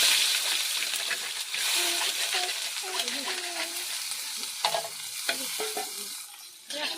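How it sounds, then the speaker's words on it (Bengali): Onion, dried red chili and fish phoron frying in mustard oil in a pan, a loud continuous sizzle with stirring scrapes and splatter, some faint voices in the background. "সর্ষের তেল দিয়েছি এবার শুকনো লঙ্কা দিয়ে দিলাম মাছ ফোড়ন দিয়ে দিলাম পেঁয়াজ দিয়ে দিলাম"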